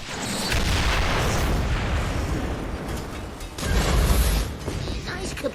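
A loud, dense blast from an Olsen Dart fills several seconds with a broad roaring rumble, easing and then surging again toward the end, close and heavy.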